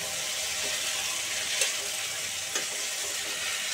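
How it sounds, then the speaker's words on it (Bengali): Potato and pumpkin pieces frying in a pan over medium heat, giving a steady close sizzle with a couple of faint clicks from stirring, and no voices. "মিডিয়াম আঁচে আলু কুমড়োটাকে ভাজা ভাজা করতে হবে"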